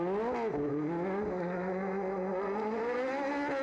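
A rallycross kart engine revs hard and steadily at racing speed, rising and falling pitch as the kart slides sideways through a corner, loud and close with no talk.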